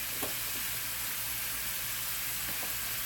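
Onions and mixed vegetables frying over high heat in a pan with jasmine rice underneath, giving a steady, loud hiss and crackle throughout with a few faint stirring clicks.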